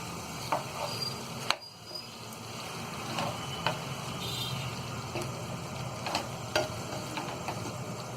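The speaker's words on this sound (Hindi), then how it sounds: "यहाँ गैस को हम मीडियम पे रखेंगे और इसे अच्छी तरह हम इस ग्रेवी में भून लेंगे" Mutton liver frying in masala gravy over medium heat, a steady low sizzle broken by occasional scrapes and taps of a spoon against the pan, close and fairly quiet, no talking.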